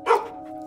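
A single short, sharp dog bark at close range, loud at the start and then fading into a faint tonal hum, given on command to attack.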